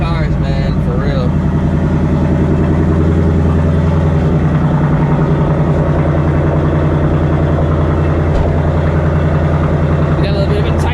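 A Ford Mustang GT S650 V8 drones steadily while driving, a deep, continuous engine hum that stays loud and close throughout.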